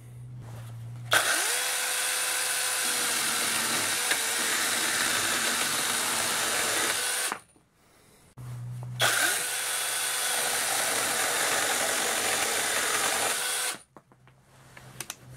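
A Rokodil Cutter Pro 700-watt brushless mini chainsaw with a new chain makes two cuts, each a steady, loud whirring buzz of about six seconds that changes in pitch as the chain bites, separated by a short pause.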